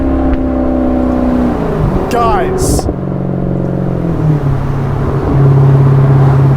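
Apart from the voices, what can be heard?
2015 Maserati GranTurismo engine while driving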